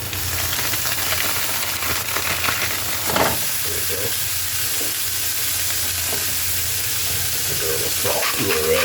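Beef and onions sizzle steadily in a hot pan for chorizo chili beans, a continuous close frying hiss with occasional stirring scrapes and no talk.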